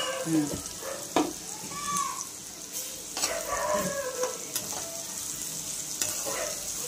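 Ginger-garlic paste sizzles and fries in a pan while being stirred, a steady close crackle with scraping strokes of a spatula throughout.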